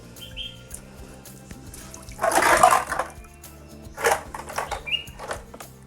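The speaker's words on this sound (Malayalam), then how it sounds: "ഇനി ഇതിലിപ്പം മെല്ലെ പതിയെ മണ്ണ് കലങ്ങാതെ വെള്ളം ഒഴിച്ചു കൊടുക്കുക" Water pours in a couple of short bursts, splashing softly into a fish tank over soil, with quiet pauses between pours.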